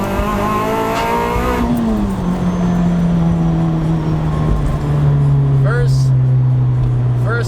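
Supercharged car on sticky tires accelerating hard in first and second gear at part throttle, a loud engine drone rising then holding steady with faint tire chirps, close and continuous.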